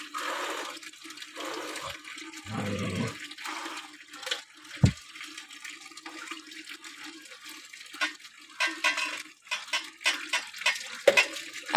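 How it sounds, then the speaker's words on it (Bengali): Tap water splashing during a bath, with intermittent pouring and sloshing, a brief heavier gush, and scattered clunks and knocks from close by. "একদম টাইম কলের জল দিয়ে স্নান চলছে।"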